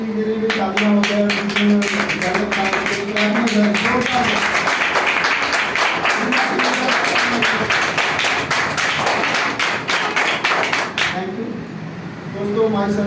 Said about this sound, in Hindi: बार मेरे लिए तालियां हो जाए।